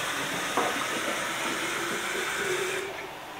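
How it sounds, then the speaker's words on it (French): Tap water pours into a bottle in a steady close hiss and rush, unbroken for a few seconds before easing slightly at the end. "je vais compléter avec de l'eau"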